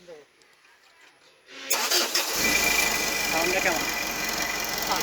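An engine cranks and catches, then settles into a steady, loud idle rumble, with a brief spoken word near the start.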